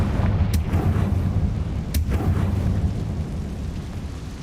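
A Confringo fire spell blast in the Hogwarts Legacy video game, a dense, roaring burst with sharp cracks near the start and middle over a constant low rumble, loud and close.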